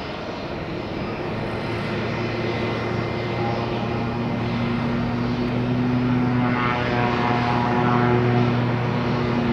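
A Boeing 737 MAX airliner at Tampa International Airport roars steadily and loudly throughout, its engine drone close and continuous with a slight swell near the end, no speech over it.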